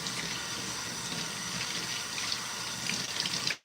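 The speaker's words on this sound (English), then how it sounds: "I'm gonna rinse my hair now" Water runs steadily from a tap while hair is rinsed at home on wash day, a continuous close hiss and splash that cuts off abruptly near the end.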